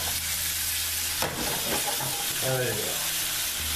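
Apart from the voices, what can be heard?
onions sizzling in a frying pan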